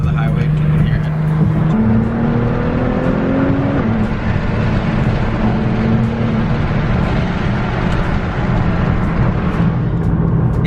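A Nissan GTR with a 3.5-inch exhaust accelerating onto a highway, a loud, steady engine drone rising in pitch through the pull, heard from inside the car with constant road and wind roar.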